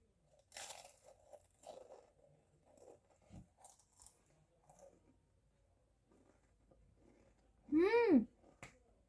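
Spicy Pringles potato chips are bitten and chewed, giving a series of short, crisp, fairly quiet crunches spaced apart, followed near the end by a brief tonal vocal sound.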